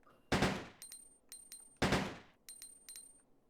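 Gunshots from the video game Resident Evil Code Veronica: two loud, sharp blasts, each followed by a run of quicker, lighter shots with ringing tonal tails, all close and without speech.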